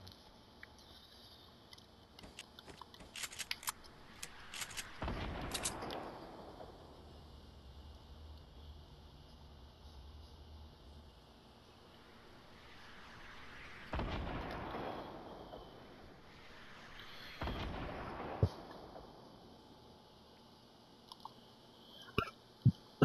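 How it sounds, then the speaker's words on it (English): Rocket launcher blasts and sniper fire in a video game battle, with loud broad bursts at irregular intervals, a few sharp cracks and pops in between and a steady low background, no talk. "Somebody's sniping at someone, another person's shooting RPGs back at him."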